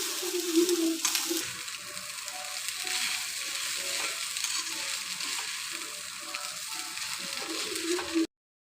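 Cooked rice being stirred into a sizzling pan for egg rice, a steady close frying hiss with soft scraping stir strokes throughout before stopping abruptly.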